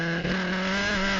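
Race cars roar at the restart of a VdeV Sports Challenge Funyo race at Le Mans, a loud, sustained engine drone held steady for a brief moment, close and without talk.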